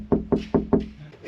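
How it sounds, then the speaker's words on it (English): A custom restored wooden door closing, heard as four quick, evenly spaced knocking thuds of wood close by, followed by a few softer bumps. "We got a closing door."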